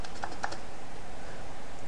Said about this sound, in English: That's my German keyboard.